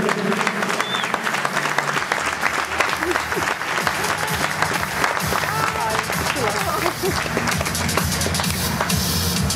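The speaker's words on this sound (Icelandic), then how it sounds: "Við skulum gefa það gott klapp." A crowd at an Icelandic horse show claps loudly and continuously for the horses, with voices mixed into the ongoing applause.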